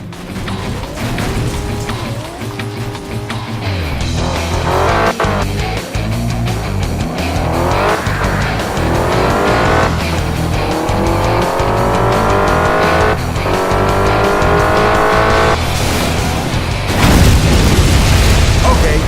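Racing car in Crash Time V ramming an opponent: loud revving engine rising and falling through gear shifts, tire squeals and skids, with dull impacts and a heavy crash near the end.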